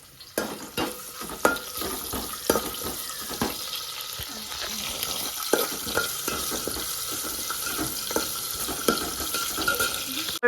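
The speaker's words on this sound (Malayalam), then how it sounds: "കെറ്റിൽ തിളപ്പിച്ച വെള്ളം ഒഴിച്ചു കൊടുക്കുകയാണ്" Boiled water from a kettle pours into a pot of rice for prawn biryani, a continuous splashing rush with a few clinks and knocks, close by and without talk.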